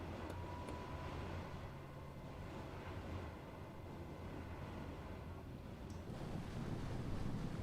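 Ocean waves in Microsoft Flight Simulator 2020 after an aircraft's water landing: continuous rushing surf and wind-like wash, steady and fairly loud, swelling slightly toward the end with no voices.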